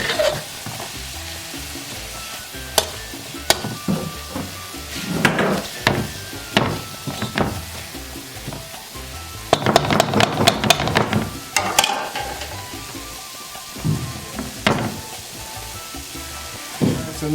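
Goat meat dropped into a hot pot for curry goat, with loud sizzling and frying throughout, plus repeated sharp stirring and utensil knocks and a dense burst of clatter partway through.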